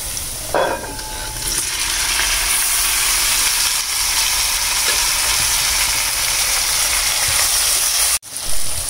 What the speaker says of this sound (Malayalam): ഇനി നമുക്കിതിലേക്ക് ആ വേവിച്ച് വെച്ചിരിക്കുന്ന ബീഫ് ചേർത്ത് കൊടുക്കാം.